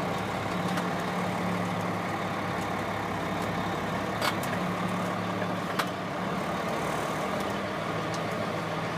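A truck engine runs steadily at a driving school's training session, a constant low drone with a few faint clicks and knocks over it.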